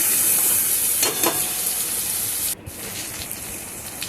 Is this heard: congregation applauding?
no